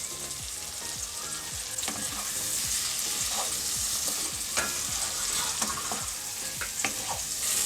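Fried eggplant pieces sizzle loudly in hot oil for a Bengali fish curry, with steady frying hiss and repeated scraping stirs of a spatula throughout.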